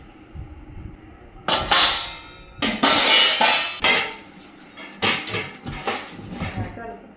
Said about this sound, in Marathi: या 30 भांडी संचामध्ये हा जो आहे तर हा मसाला डब्बा